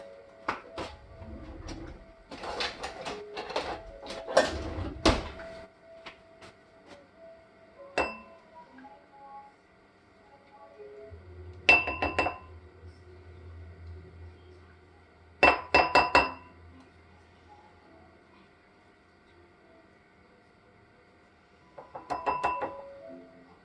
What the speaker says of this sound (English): We're going to stir until it's well mixed.